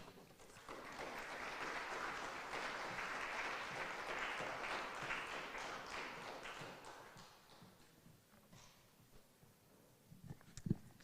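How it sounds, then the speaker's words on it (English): An orientation day audience claps warmly for about eight seconds. The applause then fades into scattered taps and a few louder knocks near the end. "So please give a warm round of applause to Kerli Roosimaa,"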